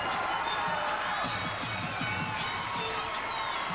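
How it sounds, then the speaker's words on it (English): Home crowd in an arena cheering a college gymnastics floor routine at the Big 12 championships, a steady roar of shouts and applause, fairly distant and sustained throughout. "Home crowd very much behind her on this routine."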